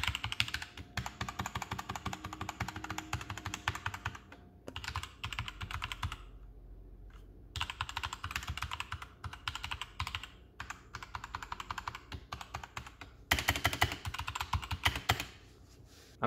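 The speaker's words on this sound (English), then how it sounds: "So just to kind of give you a feel for worst case scenario, how loud this keyboard can get." Rapid, forceful clacking on a Royal Kludge RK61 mechanical keyboard, dense bursts of keystrokes with a few short pauses, close and crisp.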